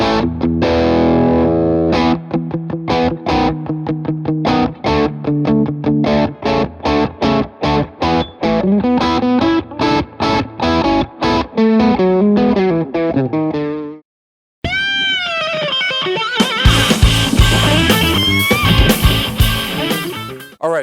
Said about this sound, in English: that cool, open, natural, sort of classic rock distortion